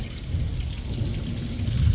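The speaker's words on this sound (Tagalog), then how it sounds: "Mabuti at tapos na ang pag-ulan, konti na lang." Light rain falls at the tail end of an African storm, a steady soft wash with low rumbling, continuous and fairly close.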